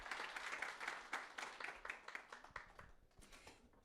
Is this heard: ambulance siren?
no